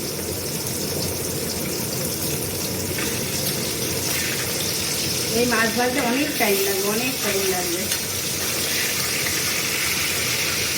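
Water runs from a tap onto mutton in a kitchen sink, a steady, gushing stream that continues throughout. A voice speaks briefly partway through.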